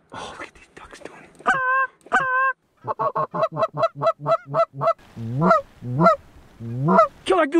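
Geese honk repeatedly during a duck and goose hunt, with a rapid burst of short calls between longer, wavering honks, loud and close. Quiet voices are also heard.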